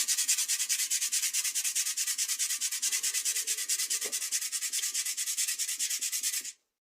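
Steady rhythmic sanding strokes scrub rust from a worn part of an IZh Planeta-3 motorcycle during restoration, a close, continuous back-and-forth rasping that stops abruptly near the end.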